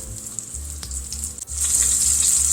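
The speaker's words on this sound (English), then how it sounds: "we're going to want to brown this on all sides" A flour-coated beef roast for pot roast sears in a hot pan with a steady, fairly loud sizzle, broken by a short dip near the middle before the frying swells louder again.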